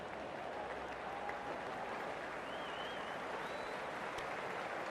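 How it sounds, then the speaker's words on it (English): Stadium crowd at an IPL cricket match in Ahmedabad applauds steadily, a broad, distant wash of clapping and crowd noise that stays even and continuous throughout, with faint whistles on top. "please give him a round of applause"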